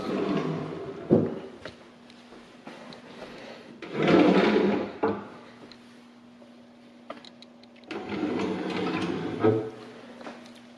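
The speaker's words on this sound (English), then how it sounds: "all wood cabinets, all wood. Pull-outs." Wooden pull-out kitchen cabinet drawers slide open and shut in a few separate bursts of rolling and knocking, with a low steady hum from the room between them.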